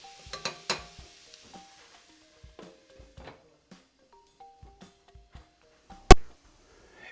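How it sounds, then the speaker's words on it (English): Onions cook in a pot of clam chowder with faint, sparse sizzling and stirring, punctuated by a few soft utensil knocks and one sharp metallic clank near the end, with no one talking. "let this cook for about a minute to a minute and a half. I want the onions to release their flavor into the pot."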